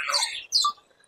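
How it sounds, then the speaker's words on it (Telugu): A large parrot, roughly pigeon-sized and unusually coloured, kept at Ramoji Film City gives two shrill, squawking calls in quick succession, close and fairly loud, with no talking. "ఎంత పెద్దగా ఉంది చిలుక ప్యారెట్"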